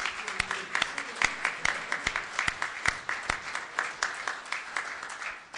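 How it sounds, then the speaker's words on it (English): An audience at an investment competition event applauds a sponsor with moderately loud clapping, a rapid, uneven patter of individual claps running steadily throughout. "So a big round of applause for him."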